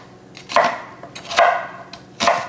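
Knife chopping an onion for rice to go with smoked Cornish hens, three separate crisp cuts spaced about a second apart, close and fairly loud, with no talk.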